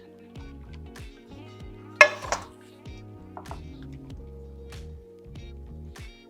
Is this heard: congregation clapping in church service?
no